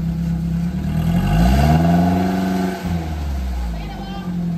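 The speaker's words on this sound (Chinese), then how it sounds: "刚刚让上杰轰了一下油门" An old, cheap, much-resold minivan engine revs as the accelerator is pressed, rising to a swelling roar and then settling back to a steady idle, loud and close.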